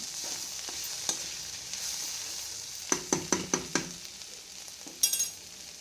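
Ridge gourd curry sizzles softly in a pan while a spoon scrapes and stirs it, with a quick cluster of sharp clinks in the middle and a few more strokes near the end, no talking.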